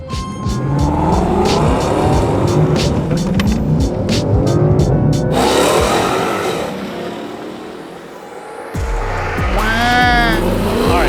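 A drag racing car's engine roars loudly at full throttle on the drag strip, drops away briefly, then revs hard again with a sharp, throaty launch.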